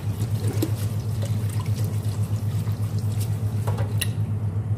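Molokhia leaves being washed under running water, a continuous close trickle and splash with occasional rustling and light taps.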